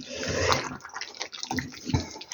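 Water is poured into a pan of simmering meat and young potatoes in tomato sauce, a close, wet splashing and sizzling burble that rises and then settles into bubbling over a couple of seconds.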